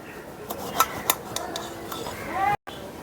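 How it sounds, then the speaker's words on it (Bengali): A knife cuts eggplant into thin slices for beguni on a board nearby, making a run of light, irregular taps and clicks over faint kitchen background. "একইভাবে আমি সবগুলো বেগুন কেটে নিচ্ছি"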